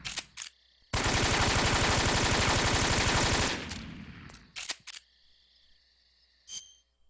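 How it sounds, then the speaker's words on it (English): A long, loud burst of AK-47 rifle fire in Metal Gear Solid 3, rapid evenly spaced shots for about two and a half seconds, followed by a few isolated clicks and clatters in near silence. "fire all of the bullets out of the AK-47"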